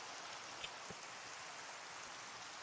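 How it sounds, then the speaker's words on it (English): Steady rain falling during an active thunderstorm, a dense, even hiss of drops with a few brief patters, fairly faint and with no voices. "I'm on location of an active thunderstorm."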